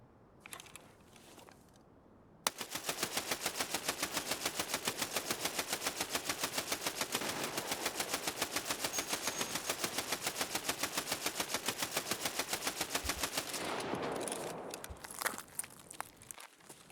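Weapons fire rattles without a break in Call of Duty Ground Zero, a fast, steady stream of sharp close shots lasting over ten seconds, followed by scattered crackling impacts and a few lone bangs.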